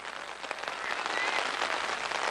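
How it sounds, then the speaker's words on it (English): Heavy rain pours down steadily during a high school baseball game, a dense, hissing downpour that swells louder partway through and holds close and continuous, with no voices over it. "And heavier rain now."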